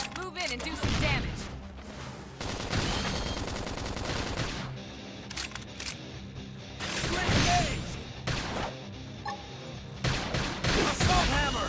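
Gunfire from the video game Xenoblade Chronicles X rattles out in rapid, sharp bursts that come in several clusters, mixed with other battle effects and the occasional voice.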